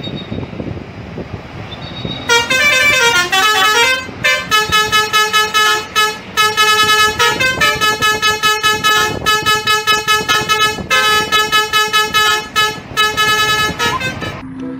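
A Persita Tangerang bus passes close by, blaring a loud multi-tone musical horn in long repeated bursts over the rumble of road traffic.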